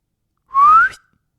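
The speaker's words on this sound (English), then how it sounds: "Robb whistled." A single rising whistle, clear and close, lasting about half a second before cutting off into silence.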